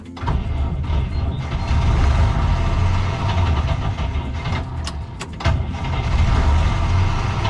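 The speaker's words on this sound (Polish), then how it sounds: "Odpala, ale gaśnie, jakby paliwa nie dostawał" A UAZ engine cranks and catches, running loud and rough close by, then drops away as it stalls before sputtering briefly again; no voices over it.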